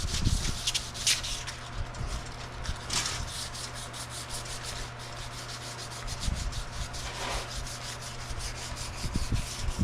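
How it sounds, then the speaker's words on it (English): Steady back-and-forth scraping of 600 grit sandpaper on a cast motorcycle wheel, close up and continuous, with no talking. "now we're on 600 grit sandpaper"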